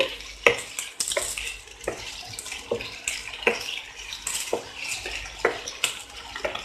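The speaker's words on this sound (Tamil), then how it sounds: "இப்போ இத வந்து நல்லா நம்ம ஃப்ரை பண்ணி போறோம்." Boneless chicken pieces fry over a high flame in a pan, a steady sizzle broken by repeated sharp clatters of stirring and turning, close and alone with no talk.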